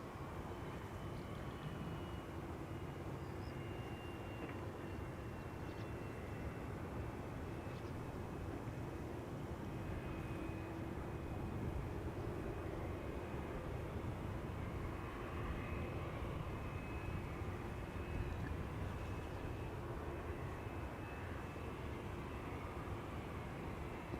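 A jet airliner takes off from Schiphol's Polderbaan runway, its engines producing a steady broadband roar that holds at moderate loudness for the whole stretch without speech.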